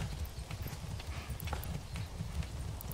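Horse hooves clip-clopping at a steady walking rhythm in the medieval strategy game Manor Lords, close and continuous with no voices.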